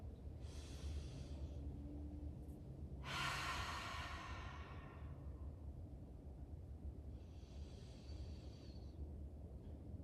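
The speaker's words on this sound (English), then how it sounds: "let's enjoy a couple deep breaths and nice long" Slow deep breaths with long, airy exhales during a full-body stretch, three drawn-out breaths spaced apart over a steady low background hum, close and fairly soft, with no talking.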